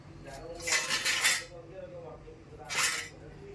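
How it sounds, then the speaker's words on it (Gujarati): Metal spoon scrapes and clinks against a pan and plate as dry-roasted pickle masala is moved onto a plate, in two close, bright bursts separated by a short pause. "હવે હું એક પ્લેટમાં આને કાઢી લઈશ"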